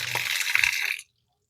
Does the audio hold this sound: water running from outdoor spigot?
yes